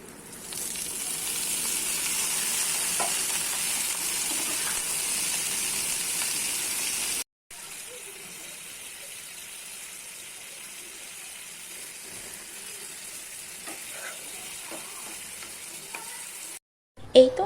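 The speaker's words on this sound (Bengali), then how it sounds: "ডালে আমি এখন ফোড়ন দিয়ে দিচ্ছি," Onion tempering hissing and sizzling loudly as it hits a pot of dal, a steady broad crackle running about seven seconds, a brief break, then a softer continuing sizzle with occasional stirring clicks.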